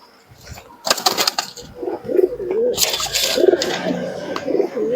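Giribaj pigeons coo in a series of low, soft, throaty calls near at hand, with brief wing flaps and a steady background murmur.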